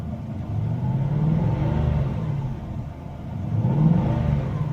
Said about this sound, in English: it's not exactly warmed up, but it's off the peg, so just rev it a little bit